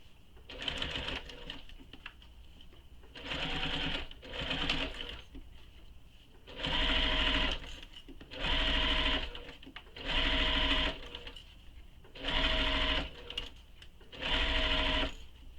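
A sewing machine stitches a zipper onto lining in bursts of steady motor whir, roughly seven runs of about a second each separated by short pauses, loud and close with no talking.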